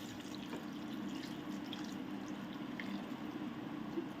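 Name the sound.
hot water being poured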